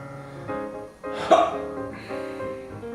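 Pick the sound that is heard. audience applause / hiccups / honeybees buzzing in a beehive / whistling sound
hiccups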